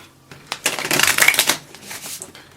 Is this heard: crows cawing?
no